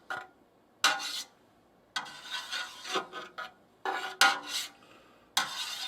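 A long knife slicing through a solid mass of farmhouse cheddar curd into half-inch blocks, giving several separate scraping, rasping strokes with short silent gaps between them, close up and without talk.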